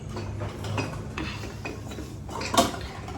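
Two metal pressure cookers are set down on a home kitchen stove, giving a series of clanks and scrapes with one sharper clatter near the end, close by under steady room noise.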